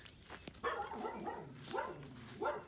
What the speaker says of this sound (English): there's a loudmouth dog waiting for us.